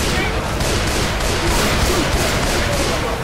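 Gunfire in the zombie shooter Left 4 Dead 2, a loud, steady barrage of shots blending into a dense roar, with a voice faintly underneath.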